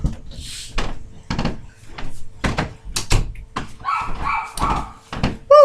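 Dogs bark in short, sharp bursts nearby with thumps and clatter around them, ending in a higher yelp.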